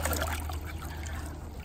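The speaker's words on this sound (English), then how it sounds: "when I scooped up some water" Water trickling and sloshing as it is scooped up from a green pond, a continuous light splashing and dribbling close by over a low rumbling background, with no talking.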